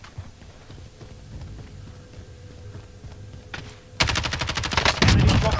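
Rapid automatic gunfire in the video game Call of Duty: Warzone, distant, muffled bursts at first, then loud, close rattling volleys erupting from the four-second mark to the end.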